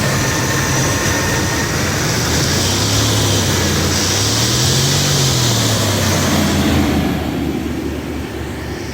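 A 1990 Chevrolet 1500 pickup's 5.7L 350 V8 idles with its air cleaner off after fuel injector replacement, a steady low rumble under loud broad hiss, the pitch wavering slightly before the noise eases near the end; no speech.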